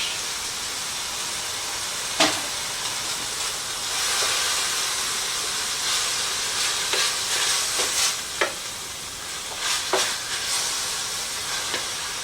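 Mango salsa paste and mango juice stirred into a hot pan while cooking pork for tacos, giving a constant loud hiss and sizzle with a few scattered scrapes and clicks of a utensil, close up with no voices.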